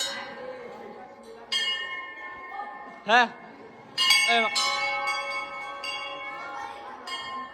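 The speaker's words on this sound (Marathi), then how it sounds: "इथं बघा सगळे घंटा वाजव." A metal bell at the Sonari temple is struck several times, each clear ringing tone lingering and fading before the next, with faint voices in the background.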